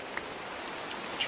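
Rain falls on a rainy night in the Minecraft video game, a steady soft hiss of drops on surfaces with a couple of slightly louder patters, and no voices.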